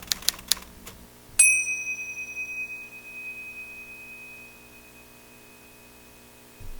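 A pair of Ting Sha hand cymbals, held one vertical and one horizontal, is struck once at the edge after a few light taps, ringing out a bright, pure tone that fades slowly over several seconds.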